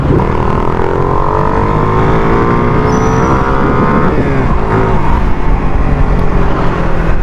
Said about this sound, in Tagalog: Traffic dito.